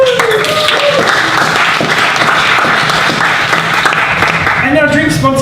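A meetup crowd in Brisbane gives sponsors a big round of applause: dense, steady clapping that carries on throughout, with voices and a cheer mixed in over it.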